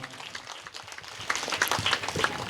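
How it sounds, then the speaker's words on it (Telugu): Applause from a church congregation welcoming priests at a Thanksgiving Mass, faint scattered clapping that swells into fuller, denser applause partway through, heard from a distance in a reverberant hall. "అందరం కూడా గట్టిగా చప్పట్లు కొడుతూ ఆహ్వానాన్ని పలుకుదాం"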